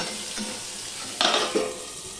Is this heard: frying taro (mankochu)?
yes